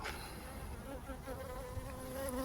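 Honeybees buzz steadily around a queen cage at the hive, a close, continuous drone of many wings with no speech.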